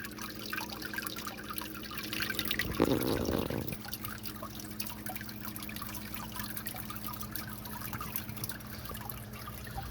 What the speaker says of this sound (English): you can see how I get all that great dripping water and all that activity underneath there